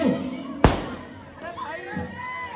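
A firecracker goes off during a staged Sita Swayamvar performance, one sharp, loud bang followed by a murmuring crowd and scattered voices.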